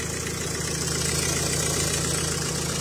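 A Nissan Micra 1.5 dCi diesel engine idles steadily to warm up, a continuous close rumble with a faint knocking clatter running evenly throughout, no voices.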